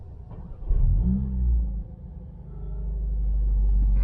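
A 2021 Mercedes-AMG A45 S with its exhaust open cranks and fires into a deep rumbling idle, a brief swell of revs followed by a low, steady, growing growl up close.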